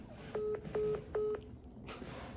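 Telephone keypad dialing tones: three short, evenly spaced beeps, clear and close, followed by a quiet hiss and a faint brief noise.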